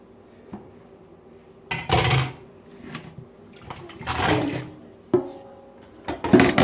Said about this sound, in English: after cutting them up, I wash them again.